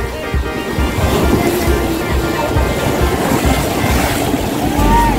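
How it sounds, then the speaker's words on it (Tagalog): Ocean surf breaks against the rocks at Big Wave Bay, a steady loud wash of waves with a boat engine faintly underneath, and voices talk over it. "Ganda ng waves!"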